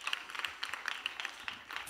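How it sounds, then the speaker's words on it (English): A studio audience at a kids' talent show claps for itself in a light, fairly faint patter of scattered hand claps, with a few sharper claps standing out and no voices over it. "Clap for yourselves."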